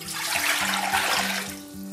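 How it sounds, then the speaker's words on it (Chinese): Clean water is poured into a cooking pot in a continuous splashing gush, with a slight bubbling rhythm, close by and without talk. "锅里边加入清水"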